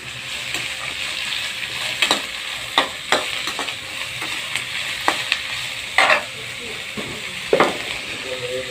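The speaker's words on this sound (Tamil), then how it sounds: "இப்போ நம்ம அரிஞ்சு வச்ச வெஜிடபிள்ஸ் எல்லாம் போட்டுக்கலாம். நல்லா வணக்கிக்கலாம்." Chopped vegetables stir-frying in a pan for a Tamil-style veg noodles dish, a steady hiss of sizzling broken by repeated sharp scrapes and clacks of a spatula at irregular intervals, close by and fairly loud.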